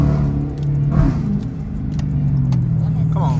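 A Dodge Challenger R/T accelerates hard at full throttle from inside the cabin, its deep, steady engine drone rising in pitch around the one-second mark, with voices talking over it.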